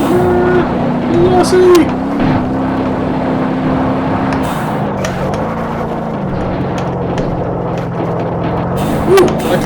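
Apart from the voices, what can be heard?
car engine accelerating in Rallycat video game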